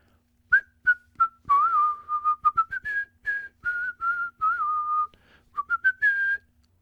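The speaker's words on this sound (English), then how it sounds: "Exit whistling." A lone person whistles a lively, halting tune in short phrases and held notes, close and clear, with no talk over it, in a reading of Richard Steele's comedy The Tender Husband.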